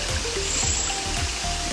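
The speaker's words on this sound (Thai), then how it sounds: "ได้ยินเสียงน้ำไหล ก็รู้สึกสงบดี" Water flows steadily at night in a continuous, close, even rush with a low rhythmic pulse beneath it and no voices.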